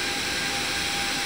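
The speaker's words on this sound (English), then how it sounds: "Your engine is quickly running." A Boeing 737-800 jet engine spools up during start in the X-Plane 12 flight simulator, a steady broadband whine and roar held at an even level throughout the short stretch.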